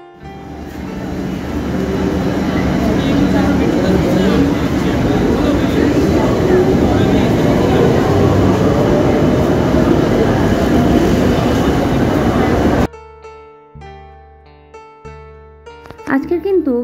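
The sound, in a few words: Kolkata metro train at Sovabazar Sutanuti station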